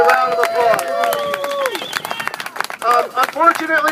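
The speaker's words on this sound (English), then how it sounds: "So let's give ourselves a round of applause." Applause and scattered cheering from a crowd at a workers' rally for SuperShuttle workers in Baltimore, building into a dense patter of clapping that continues as a voice speaks over it.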